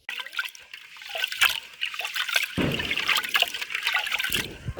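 Rice is rinsed by hand in a pot of water, with close sloshing, trickling and dribbling splashes that swell and ebb as the grains are swirled, and no voices.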